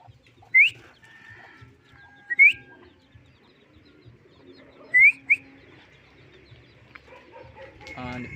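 Pigeons arriving at a loft give several short sharp calls and flutters in isolated bursts, fairly close, over a quiet outdoor background with faint low rumble.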